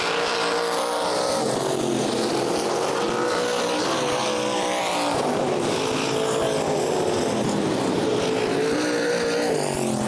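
Sprint cars roar around the Fremont Speedway dirt track in a loud, unbroken engine wail that rises and falls as the cars pass, filling the whole stretch without voices.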